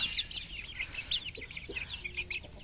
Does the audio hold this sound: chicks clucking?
yes